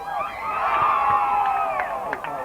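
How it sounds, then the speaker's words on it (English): Fans at a girls' game between Chazy and Westport let out a rising and falling collective cheer and 'ooh' of many voices, moderately loud and a little distant, lasting about two seconds. "JC fans are cheering."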